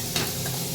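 A vegetable curry of kantola is stirred in a pan after salt goes in, a brief soft scrape over a steady sizzle, quiet and with no voices.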